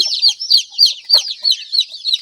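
Newly hatched chicks, a day out of the egg and shivering in the cold, peep loudly and close by in a fast, steady run of shrill cheeps, with no voices.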